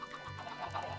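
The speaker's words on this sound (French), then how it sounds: "Les poules, ouais." Chickens in a survival video game cluck softly in short, repeated bursts, a low, steady murmur of game fowl close by with no talking.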